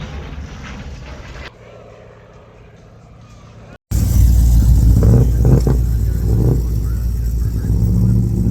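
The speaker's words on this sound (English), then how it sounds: "Cars are starting to leave." Cars starting up and driving off from a car show, loud engine rumble and revving close by after a quieter stretch of ambient noise, engines droning steadily as vehicles leave.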